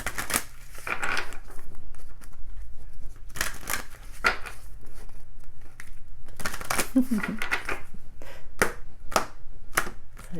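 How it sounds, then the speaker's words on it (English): Tarot clarifier cards are shuffled by hand in a quiet room, giving a series of quick papery riffles and slaps in short separate bursts, some close together, with pauses of near silence between. "I'm just going to shuffle the clarifiers."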